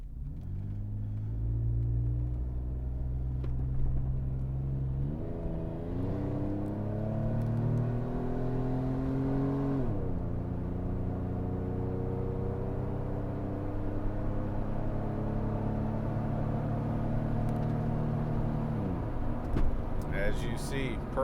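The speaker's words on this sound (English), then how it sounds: "Do a decent acceleration on the way back." A 2007 Jeep Wrangler Sahara Unlimited pulls away after a U-turn, its engine rumbling and rising in pitch through several distinct gear shifts, heard from inside the cabin as a steady, moderately loud drone.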